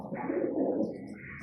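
Pigeons coo in a low, throaty murmur, several soft overlapping calls close by, steady for the whole moment with no talking.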